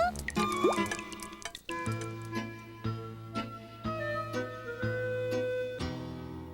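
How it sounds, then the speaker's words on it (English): Water from a leak in an old house drips steadily into metal pots and pans, each drop a ringing, pitched plink at a slow, regular pace, close and clear. "every old house has a drip or two"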